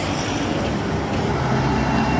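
A Mack truck passes on an Ohio roadway, giving a steady, loud rumble of engine and road noise with no voices.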